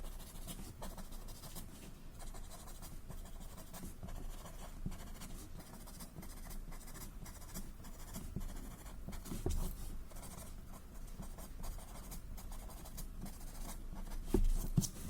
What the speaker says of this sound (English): So you have to press your pencil really hard to get that effect.